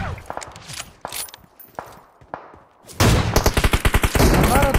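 Gunfire in PUBG Mobile cracks out in scattered single shots and short bursts, then turns into loud, rapid automatic fire with dense repeating reports.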